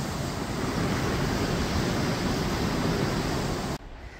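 Creek rushing near Mist Falls on the Rae Lakes Loop, a loud, close, continuous broadband roar of fast-moving water with no voices, cut off abruptly just before the end.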